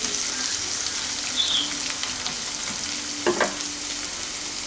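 Sliced green beans cut into long strips sizzle steadily in a hot oiled pan, a continuous close frying hiss with a brief clatter of stirring near the end.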